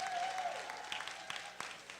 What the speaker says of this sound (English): give our borough president, Eric L. Adams, another round of applause